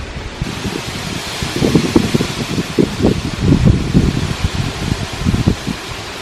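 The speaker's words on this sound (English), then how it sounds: "The wind is crazy. Can you hear it?" Strong mountain wind roars and gusts against the microphone, rising and falling in loud buffeting bursts over a constant rushing hiss.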